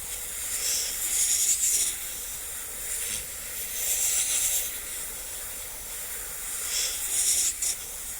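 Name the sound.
airbrush spraying paint over stencil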